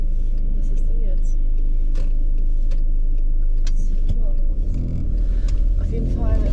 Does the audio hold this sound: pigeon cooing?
no